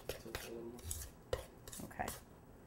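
A spoon stirs oats in a bowl for peanut butter protein granola bars, making a few quiet scrapes and clinks at an irregular rhythm, with no talking.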